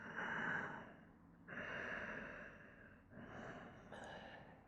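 Slow, audible breaths during a relaxed yoga pose, three long close-miked inhales or exhales separated by short pauses, soft and unaccompanied by speech.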